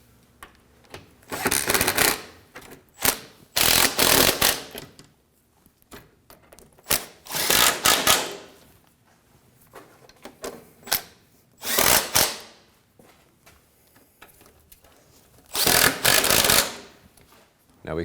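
A hand ratchet snugs down the belt tensioner bolts on a 2009-2014 Ford F-150 with the 3.5L V6, giving several separate bursts of quick, close clicking with short pauses between them.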